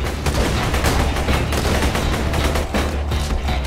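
Gunfire in the Borderlands 2 video game, dense and loud continuous volleys of overlapping shots and impacts throughout, with no pause.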